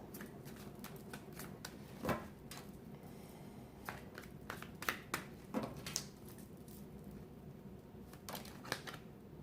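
Tarot cards being shuffled by hand during a reading, a steady papery riffle with sharper slaps and flicks scattered throughout, close and fairly quiet, with no talking.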